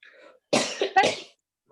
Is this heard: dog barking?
no